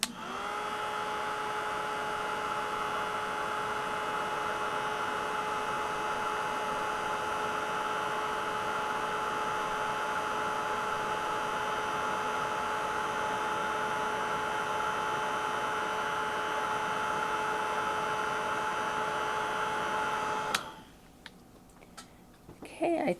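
A heat embossing tool blows a steady, humming whir at close range for about twenty seconds while embossing powder on paper, then cuts off abruptly, leaving near quiet.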